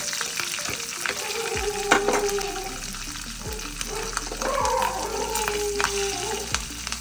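Three green chillies sizzle and fry in a hot pan for a cashew chicken gravy, with continuous crackling and spatter and occasional clinks and scrapes of a spoon stirring.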